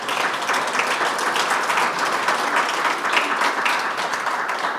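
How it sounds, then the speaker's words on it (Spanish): Applause from an audience greets invited guests, a journalist, an investigator and a former prosecutor, at a panel talk on corruption. The clapping is sustained and even, filling the room from start to finish. "Un aplauso para ellos también."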